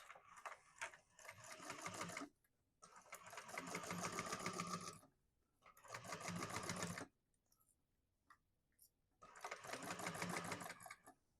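A sewing machine bastes a bag lining in place, running in four rapid, evenly stitching bursts of a few seconds each, separated by short pauses, close and alone.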